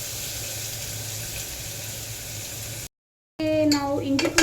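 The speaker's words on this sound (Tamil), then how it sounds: "நான் இஞ்சி பூண்டு பேஸ்ட் போட்டு நல்லா ஓரளவுக்கு ஃப்ரை ஆயிடுச்சு" Ginger garlic paste frying with onions in a pan makes a steady, close sizzle that cuts out abruptly, then a voice speaks over renewed cooking noise.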